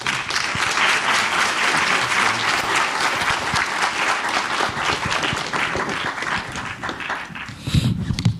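A lecture audience bursts into sustained, dense applause to welcome speaker Benjamin Bratton before his talk on The Stack, design and geopolitics. The clapping stays loud and steady throughout, with a brief swell near the end.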